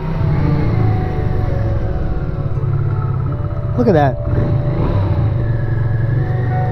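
A Honda Ascot VT500 motorcycle engine idles steadily inside a garage, a close, continuous low rumble with a brief upward rev partway through, while someone talks over it.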